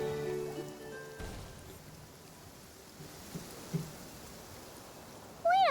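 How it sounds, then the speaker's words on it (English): Steady rain falling in Genshin Impact, a soft continuous patter with a few brief melodic game tones near the start and a rising chime at the very end, no talk. "listening to the rain cleanse the earth makes me feel safe"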